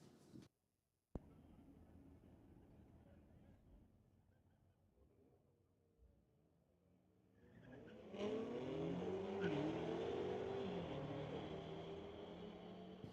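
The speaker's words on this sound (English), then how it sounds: "Both racers away on green lights." A 2024 Porsche Cayenne and a 2022 BMW M8 launch side by side in a drag race at Mission Raceway Park. After a brief quiet lull the engines roar up loudly and hold at a strong, steady pitch, heard from trackside.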